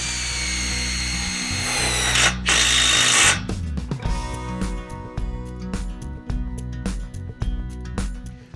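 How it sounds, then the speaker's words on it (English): A power drill whines at high speed, then drives a self-tapping screw through a tube strap into a high tunnel bow, ending in a series of short ratcheting bursts and clicks, loud and close, without talk. "we'll put our self-tapping screw through the tube strap into the bow"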